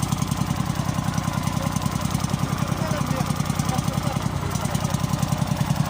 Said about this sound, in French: Voilà un tracteur qui marche avec une manivelle.